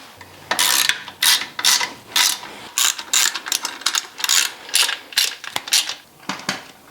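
A ratchet clicks in quick, close bursts as the engine mount bolts on a barn-find Suzuki MT50 motorcycle are tightened, with short pauses between strokes.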